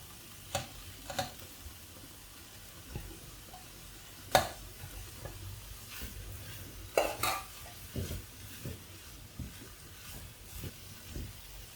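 Ground spice paste going into a hot pan for a brinjal and dried shrimp dish, stirred with scraping clinks of a utensil against the pan over a soft, faint sizzle.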